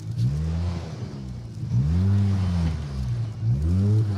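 Rally car on an asphalt stage at the East Riding Stages, roaring loudly past with three surging rises in engine pitch as it accelerates through the gears, close and alone with no talk.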